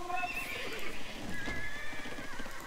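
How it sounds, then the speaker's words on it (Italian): Horses in Age of Empires 2 neigh and whinny repeatedly, with a clip-clop of hooves in a busy game scene. "Sono tutti qua i cavalli del giallo."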